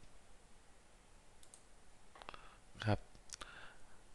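A few light computer mouse clicks, close and crisp, sounding once or twice during a software tutorial while someone talks quietly in Thai.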